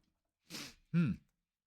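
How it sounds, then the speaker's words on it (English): A single quiet cough comes in two parts, a breathy burst and then a rougher voiced one, heard alone in near silence. "Just had a weird cough kind of just sail on through"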